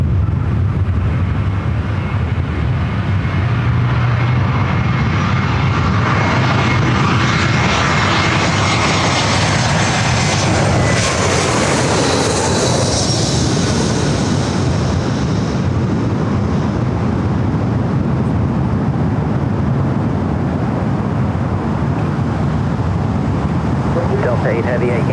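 An Alaska Airlines jet landing on runway 24 right at Los Angeles International Airport makes a loud, sustained engine roar that swells toward the middle and then slowly fades, with voices heard faintly underneath.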